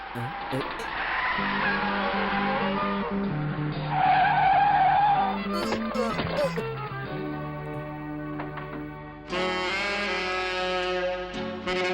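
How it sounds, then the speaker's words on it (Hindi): Tires skid and squeal during a car chase in a dubbed action film, the engine roar and screeching loud and sustained under a music score, with a sharper burst near the end. "कार को पीछा करते हुए पहली बार देख रहा हूँ यार"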